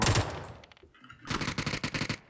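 Gunfire from a gun in a video game: a loud burst of shots at the start, then after a short pause a fast, even volley of rapid bursts, close and loud, with no talking.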